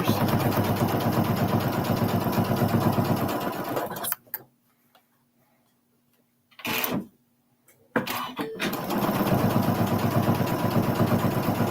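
A sewing machine chain piecing quilt corners runs in fast, even stitching bursts, stopping for a quiet pause with a short whir in the middle before resuming at full speed, close and loud.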